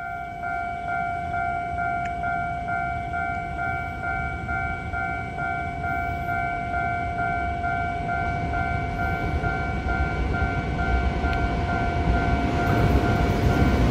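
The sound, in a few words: EMU700 electric multiple unit train passing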